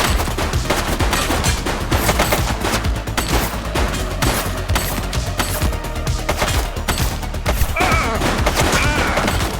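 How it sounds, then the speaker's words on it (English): Heavy gunfire from a police shootout in the video game The Precinct, dense rapid bursts and overlapping shots filling the whole stretch, loud and continuous over a busy game soundscape with faint voices. "Shots fired!"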